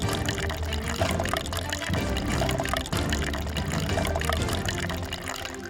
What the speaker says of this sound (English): Cover the bottom of the aquarium with a garbage bag and pour water over it.